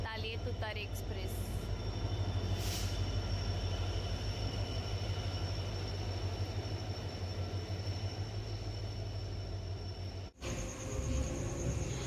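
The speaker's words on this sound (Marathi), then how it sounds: "आता आली आहे तुतारी एक्सप्रेस." The Tutari Express comes into Kankavli station with a steady, moderately loud rumble and a low engine drone that runs the whole time, briefly dropping out near the end.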